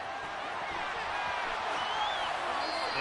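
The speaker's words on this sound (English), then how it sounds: "You can already start to hear this crowd." A football stadium crowd roars during a third-and-goal play, a dense, continuous wash of cheering heard from a distance that holds steady throughout.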